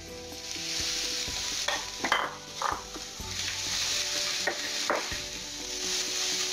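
Garlic frying in a pan with salt, a continuous close sizzle broken by several sharp scrapes and clinks of a utensil stirring, no voices.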